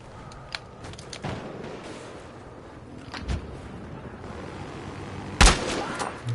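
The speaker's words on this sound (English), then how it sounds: "We got an SUV with a gun on top." A gun mounted on top of an SUV fires in Battlefield Hardline, giving scattered sharp shots against a low background rumble, with one loud close report near the end.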